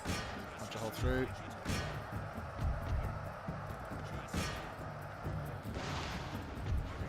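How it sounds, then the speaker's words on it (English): Cannon artillery fires in the video game Empire: Total War, with several sharp booming shots spread across the stretch over a steady battle din, while a voice talks throughout. "Cannon, keep firing at the enemy general."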